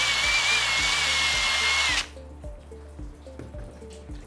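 An electric power drill whines at high speed for about two seconds as it bores through a plastic bottle cap for a water rocket launcher, then stops abruptly, leaving only background music.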